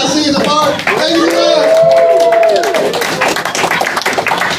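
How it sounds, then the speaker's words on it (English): A stand-up comedy audience in Amsterdam claps in a burst of crisp, close handclaps, with cheering voices over it that fade into scattered claps. "Another round of applause for the Ukrainian flag, everybody."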